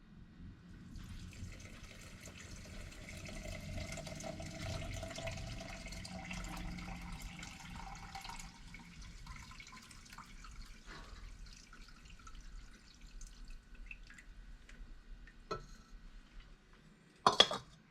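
Copper leaching solution is poured from a container, topping it off with a steady, faint liquid trickle and splashing that thins out and ends with a couple of sharp clinks.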